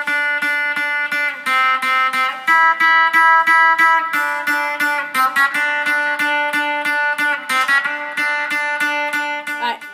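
Guitar playing a riff as a beginner lesson example, a loud, close, continuous run of picked notes with a steady rhythm and no talking.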